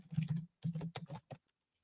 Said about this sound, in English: This is assuming, Chris, you're typing.